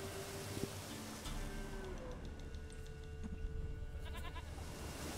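A goat in Witcher 3 gives short bleats over ambient game sound and a low rumble, moderately faint, with a few brief harmonic calls near the end.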